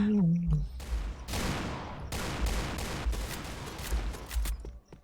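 Rapid bursts of gunfire from the online shooter game Point Blank ring out loud and close, several volleys in a row with a brief voice at the start.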